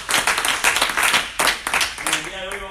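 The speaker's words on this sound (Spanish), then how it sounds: "Vamos, un aplauso a Cristo." Church congregation at a Pentecostal service clapping together in a burst of applause, loud and dense, with voices rising toward the end.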